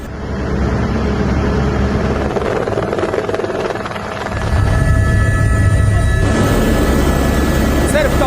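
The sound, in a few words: helicopter flying over flood-hit village in Nepal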